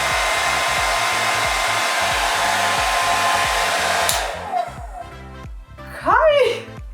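A handheld hair dryer blows loudly and steadily, then cuts out abruptly; someone speaks during and after it stops.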